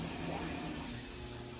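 Steady broadband rush of water as a washing machine fills during a nighttime laundry load, continuous and fairly loud with no breaks or talk.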